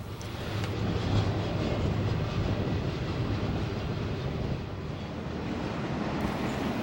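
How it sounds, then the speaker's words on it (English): A BNSF freight train in Cajon Pass rolls past as a steady, broad rumble that holds its level from start to finish, with no voices. "we can see the train heading into what was once Tunnel 2"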